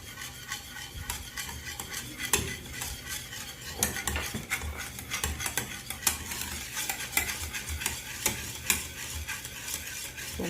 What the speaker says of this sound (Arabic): وغادي نخلط كلشي مزيان